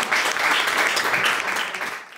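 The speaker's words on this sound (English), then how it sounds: "a big round of applause" Audience applause at a talk, a sustained bright burst of many hands clapping that stays steady for about two seconds before starting to fade.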